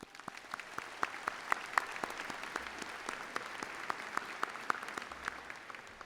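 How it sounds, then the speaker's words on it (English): A round of applause at a 2018 high school graduation ceremony, steady crowd clapping with distinct louder claps standing out, filling a large space at moderate volume for several seconds. "Please join me in giving her a round of applause."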